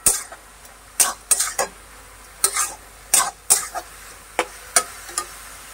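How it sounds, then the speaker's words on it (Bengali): Fried eggplant and greens with onion, dried chilli and nigella are stirred in a pan, giving a series of sharp, irregular scraping clinks, about a dozen in a row. A faint sizzle sits beneath them. "সমস্ত কিছু একসাথে একটু ভালো করে আবারও মিশিয়ে নিতে হবে।"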